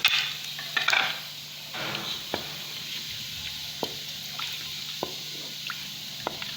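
Whole cloves, cinnamon pieces and cumin seeds browning in hot oil for a white chicken korma, a soft low sizzle with scattered faint pops and ticks, plus a few stirring clatters near the start.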